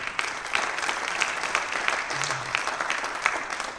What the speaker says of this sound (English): big round of applause to Omar for that